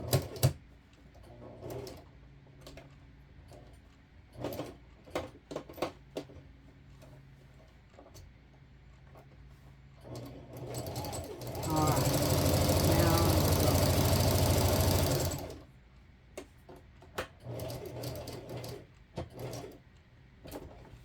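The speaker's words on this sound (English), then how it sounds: "And off we go with a good back stitch." A sewing machine stitching a rice bag quilt runs steadily for about four seconds in the middle, a loud continuous whir. Scattered clicks and handling knocks from adjusting the fabric come before and after it.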